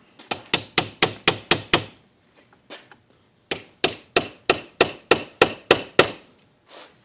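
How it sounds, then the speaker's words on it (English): A hammer repeatedly strikes a tool to drive it into a Berdan primer: two rapid bursts of about seven sharp metallic whacks each, close and loud, separated by a few lighter taps and a short pause. "sometimes you got to give it a few more whacks just to get it in there right"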